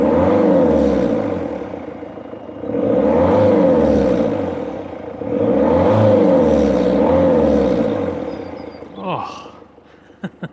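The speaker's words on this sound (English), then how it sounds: "What I wanted most of all out of the diesel noise was the intake sound," A Ford Fiesta diesel with a turbo intake revs three times, each a loud rising and falling whooshing roar near the microphone, then settles quieter with a few sharp clicks.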